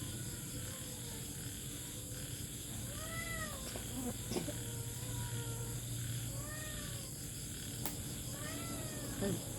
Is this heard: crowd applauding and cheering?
no